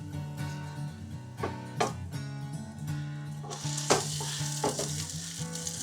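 Rice frying with egg in a hot pan, a continuous sizzle broken by scraping stirs and occasional clacks of a utensil against the pan, close and clear with no talking.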